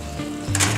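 Pumpkin pieces roasting in a 200-degree oven give off a soft sizzle and hiss as the foil comes off, a brief, steady frying noise over a low electrical hum.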